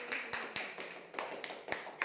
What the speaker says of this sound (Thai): ไหนเมื่อกี้ปรบมือยังไงนะปรบมือให้กูดูอีกรอบดิ